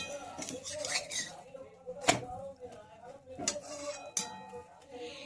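An egg roll, with egg and a fried flatbread, is flipped in a frying pan. Several sharp metallic clanks and scrapes of a utensil against the pan ring out over a soft background of frying.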